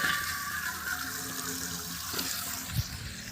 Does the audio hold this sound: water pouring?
yes